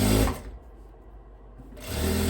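A sewing machine stitches a seam on a long dress with puffed sleeves, running in two loud bursts at the start and end with a quieter pause between.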